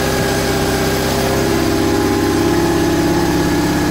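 A BMW R850R motorcycle with fuel injection and a manual cold-start system idles steadily right after a cold start on a weak battery, a loud, continuous, even engine drone with no talking.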